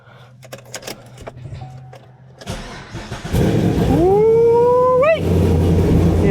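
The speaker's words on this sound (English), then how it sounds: "You're gonna hear this LS7 scream." A Camaro Z28 with an LS7 V8 and a major exhaust leak cranks, catches and fires up, then revs with a rising howl and a sharp blip before settling into a loud, steady idle; faint clatter and handling noises precede the start.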